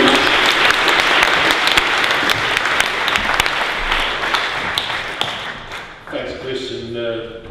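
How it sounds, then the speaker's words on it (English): Sustained applause from a lecture-hall audience welcoming a trade union speaker at an anti-war public meeting, dense clapping throughout that begins to thin near the end as a voice starts to speak. "Give him a big round of applause."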